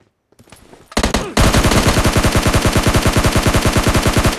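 Rapid automatic gunfire sprayed in the battle royale game PUBG: a few scattered shots, then a loud, steady, evenly spaced burst of fire that runs to the end, with no talking.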